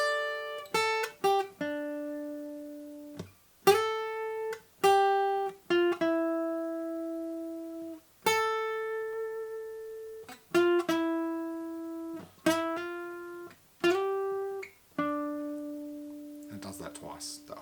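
An electric guitar plays a lead solo, clean plucked notes rising and sustaining in three repeated phrases, each note ringing then decaying, close and clear with brief gaps between lines.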